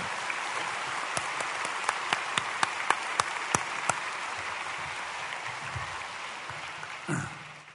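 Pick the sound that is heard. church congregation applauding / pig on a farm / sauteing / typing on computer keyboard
church congregation applauding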